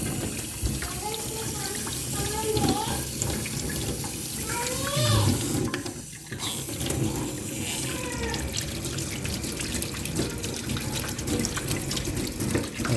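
Water runs steadily from a tap into a sink as a child washes, a continuous loud splashing stream with voices talking over it throughout.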